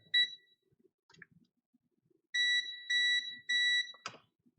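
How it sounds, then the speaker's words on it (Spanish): A Sunshine multimeter sounds its audible alert, with one short beep and then three steady, evenly spaced tones, clear and close, over faint handling noise and a click. "ahora escuchen el alerta sonoro del Sunshine."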